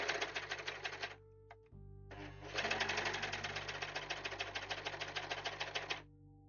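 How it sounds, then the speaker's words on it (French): A sewing machine runs in fast, steady stitching bursts, loud and close, with a brief pause in the middle before it starts again, alone without talk. "They say my sewing machine scared them."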